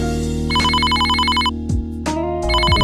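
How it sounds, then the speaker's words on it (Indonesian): A phone ringtone in the Sakura School Simulator video game plays alone as a bright electronic melody with rapid repeating beeping notes, pausing briefly and then starting again, with no voices. "Eh, si King telepon."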